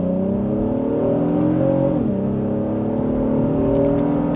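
A 2026 Honda Passport Trail Sport Elite SUV accelerates hard in second gear in sport mode, its engine droning loud and steady from inside the cabin with a brief dip in pitch midway, no talking.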